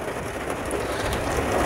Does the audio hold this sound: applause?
no